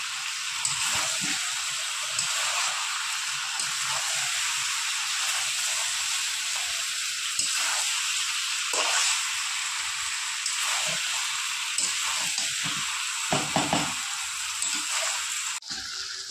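Mutton sautéing with spices in a pan for Bengali mutton kosha gives a steady, close sizzle and hiss throughout, with occasional brief clinks and scrapes of stirring and no one talking.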